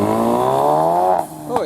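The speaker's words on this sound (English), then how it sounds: "Nice Mark 3 RS. Making lovely noises." A Ford Escort Mark 3 RS revs nearby, its engine note holding a strong, steady harmonic drone before dropping off with a short pop and a brief flutter as it settles.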